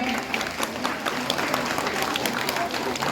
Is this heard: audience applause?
yes